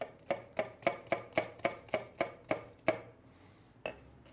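A knife chopping minced shallots on a cutting board for a grilled rib-eye surf and turf dish, nine or ten crisp, evenly spaced chops in a steady rhythm, close and clear, then a pause and one final chop.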